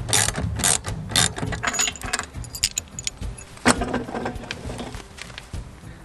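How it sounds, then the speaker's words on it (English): A bike rack is pulled off the hitch receiver on the front of a camper. Close metallic rattles, jangles and clunks of the rack and hitch parts come in uneven bursts, with no talking. "Now I'm going to take the bike rack off from the receiver so you can kind of see them separate."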